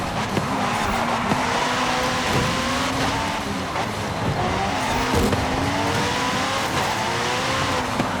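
Racing car engine roaring steadily with shifting revs and tire squeal through cornering in the Forza Horizon 5 video game, loud and continuous throughout with no talk.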